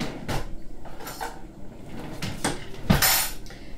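Metal kitchen utensils clink and clatter as a small ladle is picked out while cooking potato kemounia, several sharp chinks and rattles close by, with no talking.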